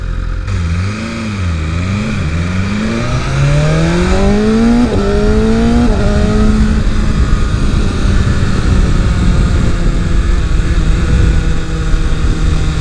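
A 2023 BMW S 1000 RR inline-four sport bike revs and accelerates through the gears while ridden on the street, a loud rising engine whine with shift dips, then a steady drone with heavy wind roar.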